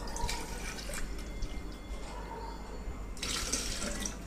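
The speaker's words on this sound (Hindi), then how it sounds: "और इसमें हम पानी डालेंगे।" Water poured into a blender jar holding cooked raw mango for aam panna, a steady splashing pour running several seconds, close and fairly loud, with a brighter burst near the end.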